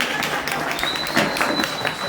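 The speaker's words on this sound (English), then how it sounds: "Please clap for me now." Applause from a comedy night audience at a cafe, a broad wash of clapping lasting about two seconds, fairly near and steady with a faint tone running underneath.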